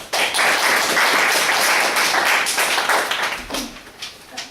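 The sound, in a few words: audience applause for the next speaker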